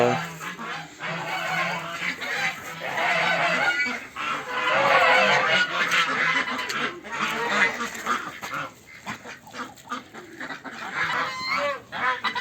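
Loud, busy honking and quacking from a flock of farmyard ducks and other poultry close by, overlapping calls rising and falling.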